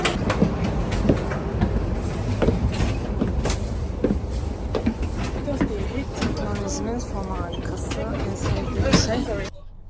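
A passenger train runs on its rails in Sydney: a steady loud rumble fills the carriage, with rhythmic clicks of the wheels and the murmur of passengers talking throughout.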